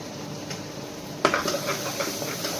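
Ginger-garlic paste is stirred into hot spices such as cloves and cinnamon in a pan, with a soft sizzle, scraping of a spoon and one sharp clink against the metal partway through.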